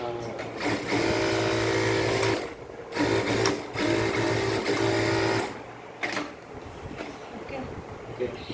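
A Singer 9900 sewing machine runs in bursts, a steady whirring hum with rapid needle chatter that stops and restarts several times, alongside some talking in the room.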